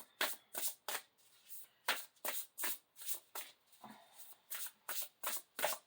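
A deck of oracle cards is riffled and shuffled over and over in quick, crisp bursts, close and clear with short pauses between.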